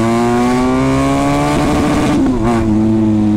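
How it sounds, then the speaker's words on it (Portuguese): A KTM Duke motorcycle with an open exhaust revs hard and accelerates, its loud droning engine note climbing steadily, then breaking up briefly before it carries on, very close. "Eu só consegui acelerar assim porque o controle de tração tá ligado"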